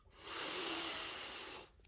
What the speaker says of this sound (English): I'm going to give this a beautiful big sniff.